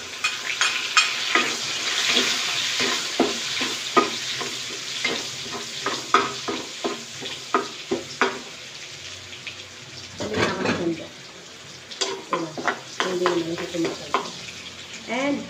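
Garlic and onion frying in a pan, with a steady sizzle and repeated scraping stir strokes, then a brief burst of running tap water near the end.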